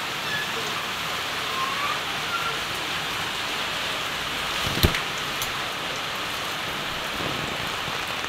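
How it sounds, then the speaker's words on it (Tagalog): Heavy rain pours steadily on a chili garden plot beside a rice field, a dense, even hiss that stays loud throughout with one brief sharper knock midway. "Malakas po ang ulan."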